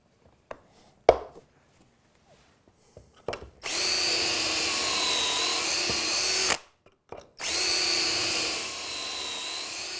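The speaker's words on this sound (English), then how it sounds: "I drill pocket holes in the rails, or horizontal members of the frame" A few sharp knocks and clicks, then a power drill boring pocket holes in wooden cabinet frame rails whirs at high speed in two sustained bursts separated by a brief pause.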